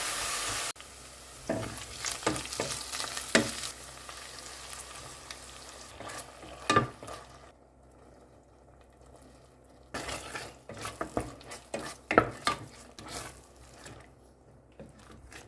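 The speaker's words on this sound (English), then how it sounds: "Then add the minced pork until it goes brown." Minced pork with tomato sauce frying and being stirred in a pan, with a steady sizzle broken by repeated scraping and clattering strokes of the utensil, close up and with no talking.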